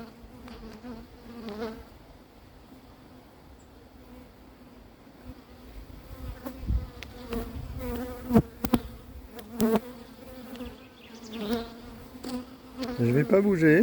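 Honeybee swarm regrouping in a hive with the cover board nearly closed, a continuous close buzzing hum with individual bees flying past the microphone, growing louder toward the end.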